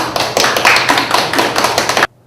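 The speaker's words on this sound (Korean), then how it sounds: "강산수 선생님 박수로 모시겠습니다" Audience applause welcoming a speaker to a Korean civic education lecture on the national budget, a dense burst of clapping that runs steadily for about two seconds and then cuts off abruptly.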